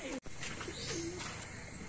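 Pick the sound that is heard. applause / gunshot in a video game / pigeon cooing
pigeon cooing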